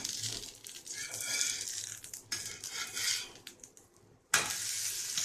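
Instant dosa batter frying in oil in a pan, a steady close crackling sizzle with brief scraping of a spatula and a sharp louder burst near the end.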